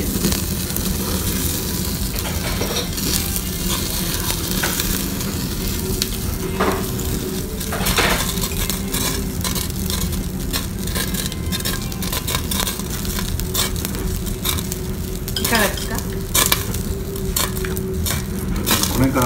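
Fatty yakiniku meat and a piece of kabocha pumpkin sizzling and crackling on a grill, a loud, steady frying hiss with frequent sharp pops and spits, close up.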